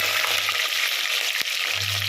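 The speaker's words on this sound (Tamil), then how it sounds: "இப்போ வெங்காயம் நல்லா வதங்கட்டும்." Onion sautés in a clay pot for a sardine curry, giving a steady, close frying hiss with faint stirring, a low hum at both ends and one sharp knock midway.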